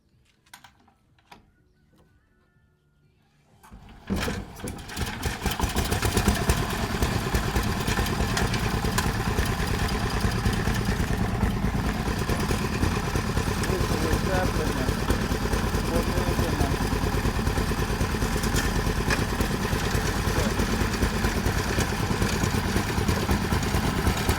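Chinese walk-behind tractor engine revved in neutral: after a few quiet seconds with faint clicks, the small engine fires up and holds a loud, steady, rattling drone close to the microphone.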